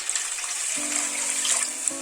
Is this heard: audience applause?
no